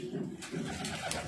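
Low, soft cooing from a male pigeon close by, rising and falling in a couple of murmuring phrases.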